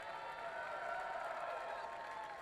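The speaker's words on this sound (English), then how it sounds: "We have huge cheers from the crowd" A crowd cheers and claps at an ultimate frisbee game between the Austin Sol and the Dallas Roughnecks. The roar is faint and distant, and it holds steady without clear breaks.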